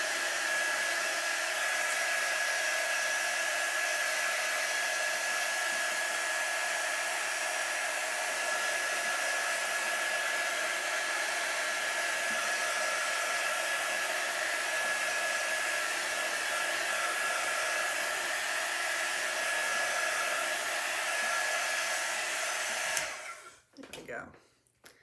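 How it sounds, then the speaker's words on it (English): A heat set tool blows hot air while drying a Chalk Couture craft project. Its steady, even whir runs alone for about 23 seconds, then cuts off with a few handling knocks. "Heat set tool."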